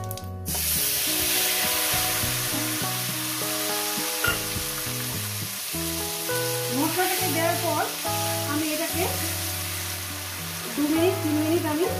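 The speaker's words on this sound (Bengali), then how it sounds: "এবার কয়েক সেকেন্ড ভেজে নেব" Spices for a rohu fish curry sizzle and crackle steadily in hot oil, loud and close, with a low background hum and occasional stirring clinks.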